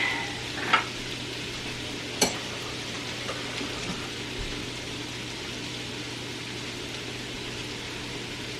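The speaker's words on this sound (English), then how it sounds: "Stir for 5 minutes to saute everything" Onions and a heaping tablespoon of garlic sauté in a pan, giving a low, steady sizzle with a few sharp scrapes and clinks of stirring near the start.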